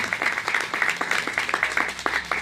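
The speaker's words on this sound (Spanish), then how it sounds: "Denle un aplauso al Señor." Congregation at a church ministry inauguration gives brief, energetic applause, with rhythmic claps standing out clearly over the room for a couple of seconds.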